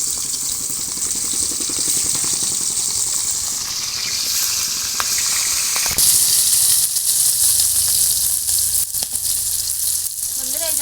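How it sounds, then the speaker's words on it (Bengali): Tengra fish frying in hot oil in a village-style home kitchen, a steady, close, loud sizzle and crackle that keeps up throughout with a few sharper spits and pops, no talking. "আমার তেলটা গরম হয়ে গেছে, আমি ট্যাংরা মাছগুলো দিয়ে দিচ্ছি"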